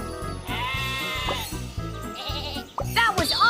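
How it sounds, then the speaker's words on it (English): Cartoon sheep in a train game bleat in a string of bright, wavering calls that overlap one another, loud and close, over a bouncy backing track. "Sheep have wandered onto the tracks!"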